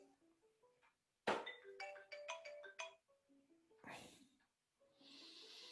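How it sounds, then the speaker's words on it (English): A mobile phone ringtone plays loudly during a session on iPad storytelling, a bright melodic tune of repeated tones lasting over a second, alone with brief quiet before and after. "Sorry, my phone was ringing."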